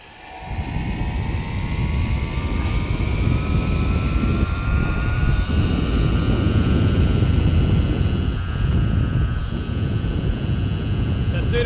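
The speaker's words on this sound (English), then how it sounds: "So let's go full throttle now." An electric bike's motor at full throttle, a steady loud whine that rises slowly in pitch over constant rushing wind and road noise, heard alone throughout.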